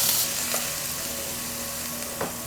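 Bean sprouts stir-fried over high heat in a home kitchen give a close, steady sizzle and crackle. Faint scrapes of stirring rise briefly twice.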